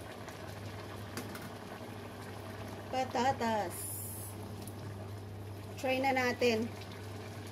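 Chicken adobo broth with potatoes boils in a pot, a steady soft bubbling under a low kitchen hum, while someone talks briefly twice over it.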